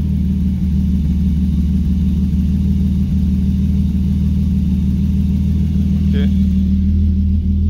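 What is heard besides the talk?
car engine idling with regulated revs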